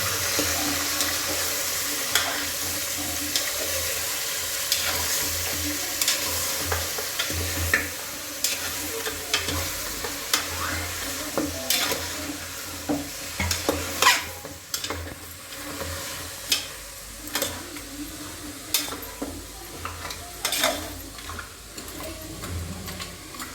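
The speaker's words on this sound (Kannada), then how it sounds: "ಮಟನ್ ತಲೆ ಮಾಂಸ ಇದನ್ನು ಮಿಕ್ಸ್ ಮಾಡಬೇಕು." Mutton head meat frying in a pan is stirred repeatedly, giving a steady sizzle broken by sharp scraping clacks that grow more frequent in the second half, close and alone.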